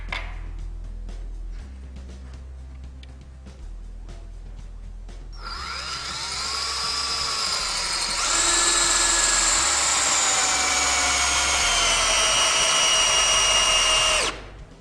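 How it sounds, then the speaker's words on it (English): After a quiet stretch, a power drill whirs up and runs for several seconds at a strained, rising pitch, driving a 14-inch GRK RSS structural screw into a block of treated wood without pre-drilling before stopping. "I'm going to run this 14-inch screw into this block of treated wood here"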